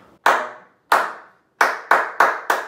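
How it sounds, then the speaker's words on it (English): Hands clap a simple rhythm in a music lesson: three spaced claps, then four quicker ones in a row, each sharp and close in a quiet room with no voices. "I want you to clap this with me."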